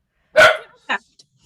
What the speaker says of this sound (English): Now it's my dog.